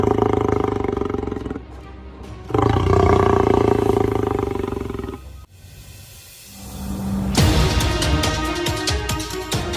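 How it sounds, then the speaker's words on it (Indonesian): Lions at Taman Safari Bogor roar in loud, deep, sustained bouts, several roars in succession close by, with no speech. "terdengar dengan sangat jelas suara mengeong para singa tersebut yang terdengar begitu lucu dan menggemaskan"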